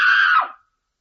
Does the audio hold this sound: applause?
no